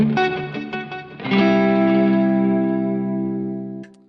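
An electric guitar runs through Strymon Deco tape saturation and Timeline delay pedals, with a few picked notes and then a ringing chord that sustains with modulated, chorus-like repeats, loud and close before fading out.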